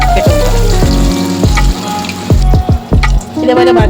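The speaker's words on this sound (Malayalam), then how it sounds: "ബ്രെഡ് പൊടിയിലേക്ക് നമുക്ക് തിളച്ച എണ്ണയിലേക്ക് ഇട്ട് കൊടുക്കാം." A breadcrumb-coated burger cutlet fries in boiling oil with loud, close crackling and sizzling, broken by repeated sharp bursts of spitting as the oil bubbles.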